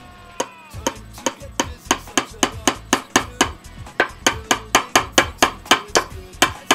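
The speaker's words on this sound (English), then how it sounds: "hammering that nail" A hammer drives a nail with about twenty sharp, evenly spaced strikes, close and loud, each blow ringing briefly before the next in a steady rhythm.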